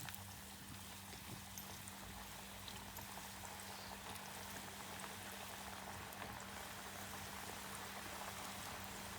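Ghughuti dough pieces frying in hot oil for a Kumaoni Makar Sankranti recipe, a steady soft bubbling sizzle that stays even throughout.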